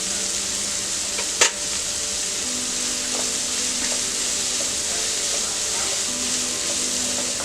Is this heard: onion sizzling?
yes